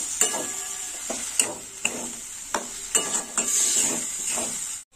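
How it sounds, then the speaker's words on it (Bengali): Poppy seed paste and chopped tomato stir-fried in a pan, with repeated spatula scrapes and taps at a regular rhythm over a soft continuous sizzle. "পোস্তটা একটু কষে নেবো।"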